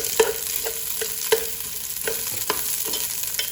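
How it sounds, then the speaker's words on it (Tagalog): Onions hit hot canola oil in a pan and fry with a steady, close sizzle, broken by a few sharp stirring clinks and scrapes at irregular intervals, with no voices. "Tingnan natin siyang uminit pa ng konti, tapos magigisa na tayo."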